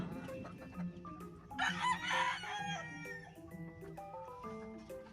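Hens clucking and cackling nearby in their coops on a farm, with a louder burst of excited cackling in the middle and steady low clucks throughout.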